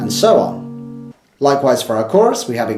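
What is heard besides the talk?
No everyday noise stands out behind the speech.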